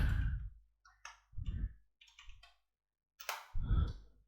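Typing on a computer keyboard with a few scattered clicks and soft taps in short irregular clusters separated by silent gaps, close and fairly quiet, no talking.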